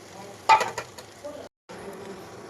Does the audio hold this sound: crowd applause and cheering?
no